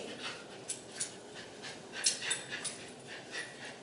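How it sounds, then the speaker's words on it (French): A dog pants quickly and rhythmically during a game of tug-of-war, with short close breaths repeating in an uneven pulse over soft background movement. "Je joue avec mon chien."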